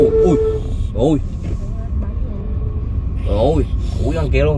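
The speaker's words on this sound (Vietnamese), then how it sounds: "Xe kìa, qua trời xe hơi luôn, xe cẩu. Xe tải luôn quá trời" Heavy street traffic of cars, cranes and trucks rumbles low and continuously near the Q7 Saigon Riverside Complex project, while people talk loudly over it.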